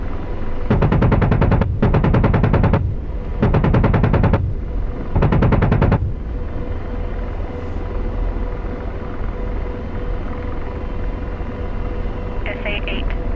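Apache attack helicopter cannon fire in the DCS combat flight simulator: four rapid bursts of loud rattling gunfire, then a steady rotor and engine drone continuing alone.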